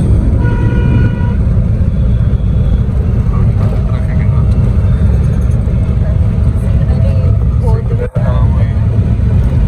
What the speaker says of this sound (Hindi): ट्रैफिक की बहुत आज